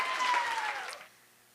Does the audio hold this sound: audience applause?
yes